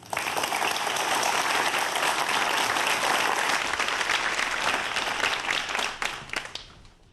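A lecture audience breaks into sustained, dense applause to welcome a physics professor onto the stage at a televised talk on the Higgs particle. The applause holds steady and loud for several seconds, then thins out and fades near the end.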